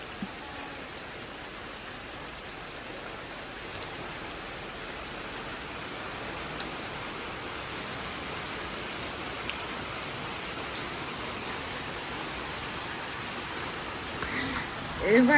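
Rain falls steadily in an even, hissing wash that holds at a constant moderate level throughout.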